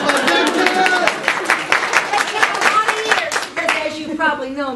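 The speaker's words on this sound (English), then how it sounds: "Round of applause for them." Audience applause breaks out at a talk by a cattle rancher, a dense patter of clapping hands running steadily throughout with a voice speaking over it.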